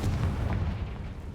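A Confringo blasting spell explodes in Hogwarts Legacy as a single heavy, booming low rumble that swells at once and then decays over about a second, loud and close.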